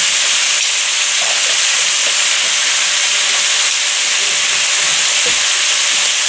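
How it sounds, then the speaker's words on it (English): Groundhog meat searing in a hot cast iron pan, a steady, loud sizzle and hiss of fat rendering that runs unbroken throughout, with no talking. "all we're trying to do is just sear and get a little fat off these things here"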